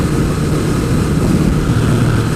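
A 1000cc sport bike engine drones loud and steady throughout, held at high revs near 8,000 RPM as the bike runs at speed, with constant wind rush and no voices.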